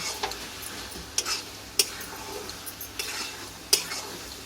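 Mutton mince with crushed garam masala and cabbage frying in a pan, a soft steady sizzle broken by several sharp clinks and scrapes of a spoon against the pan, close and fairly quiet, with no talking.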